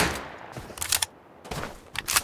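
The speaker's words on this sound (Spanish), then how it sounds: "¿Ya escucho los disparos?" Gunfire in the mobile battle-royale game PUBG Mobile during a scrim on the Vikendi snow map, heard as several separate bursts of shots spread across a few seconds at moderate loudness, with no talking.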